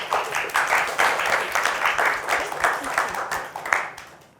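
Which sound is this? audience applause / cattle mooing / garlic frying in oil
audience applause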